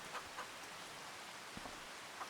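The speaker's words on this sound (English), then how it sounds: "Of course it's raining." Rain in the Farming Simulator video game falling as a soft, steady patter, faint and continuous, with a few slightly louder drops and no voices.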